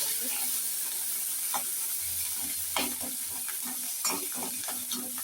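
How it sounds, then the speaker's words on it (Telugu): Green chillies, coriander and curry leaves sizzle in hot frying oil in a home kitchen, a steady close crackle with a few sharper pops and faint stirring scrapes underneath. "మనం పచ్చిమిర్చి కొత్తిమీర కూడా వేసేస్తున్నామండి కరివేపాకు అన్నీ వేసేస్తున్నాము"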